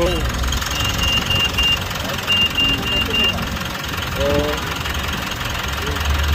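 A Mitsubishi Montero 4N15 diesel engine idles after an alternator pulley replacement, with a steady low rumble and faint mechanical ticking, close by, with a voice speaking over it.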